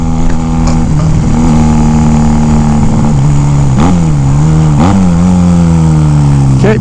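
A small motorcycle engine cruising at around 45 miles an hour, heard up close as a loud, steady droning hum with wind noise, its pitch dipping and rising a few times as the throttle and gears change, with no talking.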